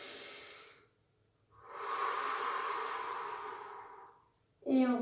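Slow, audible breaths during a Pilates exercise on a ball: a long breath, a pause, then a longer airy exhale, ending with a brief sharper sniff-like sound, close to the microphone.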